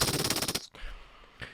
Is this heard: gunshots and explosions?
yes